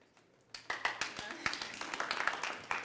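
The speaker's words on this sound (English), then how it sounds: "Because you clapped" A small audience at a Java developer conference talk claps together, sharp uneven hand claps settling into a steady patter for a couple of seconds, moderately close.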